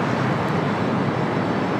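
Aeromexico Boeing 787 Dreamliner taking off from runway 25 right at LAX, a steady broadband jet roar filling the whole moment with no break or buildup, loud and continuous.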